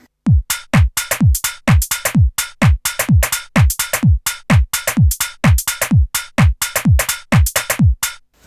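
A punchy electronic drum beat from Korg Volca drum machines, garage style, with booming kicks and crisp hi-hats in a bouncy, swung rhythm, loud and continuous.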